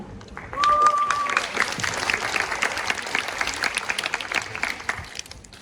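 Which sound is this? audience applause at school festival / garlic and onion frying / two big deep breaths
audience applause at school festival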